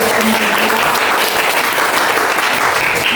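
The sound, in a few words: audience applause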